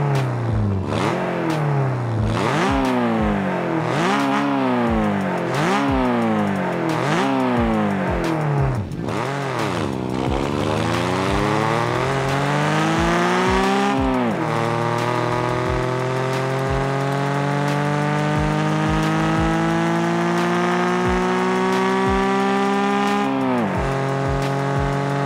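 A Mazda Miata engine in the video game Car Parking Multiplayer 2 revs repeatedly, pitch climbing and dropping through gear shifts, then pulls long steady accelerations; loud and continuous with no talking.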